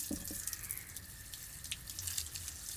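Water runs from a household tap with a soft, steady hiss while hair is washed under it, splashing and dripping irregularly close by.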